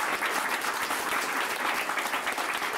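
Warm applause from an audience at a Saint Basil's Day pita-cutting gathering, a dense, steady clapping that fills the whole stretch without pause.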